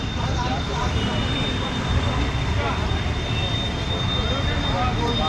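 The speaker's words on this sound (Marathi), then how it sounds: "हे बघा विमान इथनंच जाईल त्या साईडला एअरपोर्टला" A steady, broad roar of an airplane flying overhead on approach to an airport fills the whole stretch, loud and unbroken, with a constant thin high tone above it.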